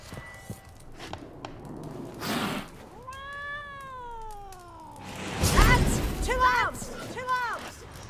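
A cat in the village of White Orchard in The Witcher 3 meows several times, one long drawn-out cry followed by a few shorter meows, with someone talking and soft footsteps and thumps around it.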